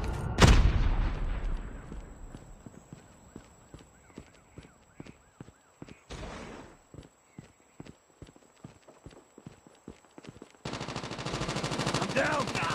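AK-47 fire in Call of Duty: Mobile team deathmatch begins with a loud blast, then continues as a long run of sharp, evenly spaced shots at moderate volume, ending in a louder burst of noisy action.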